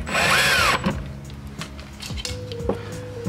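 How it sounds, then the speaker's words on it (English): A power drill-driver drives screws to refasten the map light trim in a 2005-2014 fifth-generation Ford Mustang, one loud whirring burst up front followed by quieter clicks and small handling noises. "So we're going to screw them back in."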